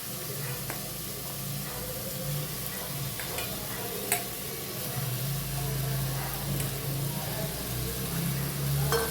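Ginger garlic paste, spices and minced meat fry for keema pulao in a steady sizzle, with occasional stirring scrapes and clicks against the pan and a low background hum.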